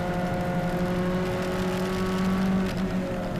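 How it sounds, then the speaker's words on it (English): Turbocharged front-wheel-drive French race car engine pulling hard uphill on a circuit, a steady loud onboard drone with a rising note and a brief shift dip near the end. "Front wheel drive, turbocharged, French power up the hill."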